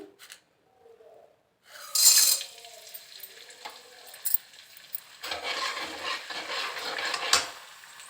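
Gond (edible gum) fries in oil for winter dry-fruit jaggery laddoos, with quiet stretches broken by bursts of sizzling and crackling, small clicks and utensil knocks, fairly faint overall.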